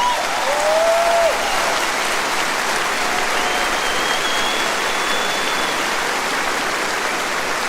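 Sustained applause from a large audience at a concert in São Paulo, loud and steady throughout, a broad wash of clapping with no voices standing out.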